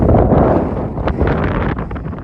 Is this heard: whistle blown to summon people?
no